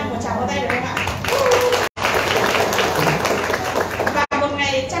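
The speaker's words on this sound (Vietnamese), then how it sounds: "chúng ta có thể dành cho nhau một tràng pháo tay được không ạ?" Applause from an audience at a Skyway technology event, dense and broadband for about five seconds with two brief dropouts, with talk and crowd noise mixed throughout.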